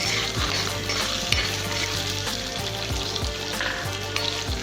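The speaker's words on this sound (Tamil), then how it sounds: "இது எல்லாத்தையும் சேர்த்துக்கிட்டோம். சேர்த்து நல்லா வறுத்துக்கலாம்." Whole garam masala spices and kalpasi dry-roasting in a pan for Chettinad chicken gravy, a steady close sizzle with repeated scraping stirs of the spoon against the pan, no talking.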